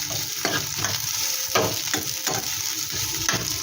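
Onion fries with a steady sizzle in a pan, broken by repeated scraping stirs at a loose rhythm, close and clear with no talking.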